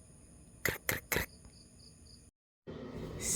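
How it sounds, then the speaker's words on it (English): Steady high insect chirring, likely crickets, runs through a dark night outdoors, broken by three loud knocks and a brief dropout before the chirping returns. "You can hear the crickets."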